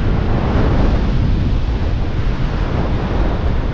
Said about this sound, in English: there's more wind getting through this valley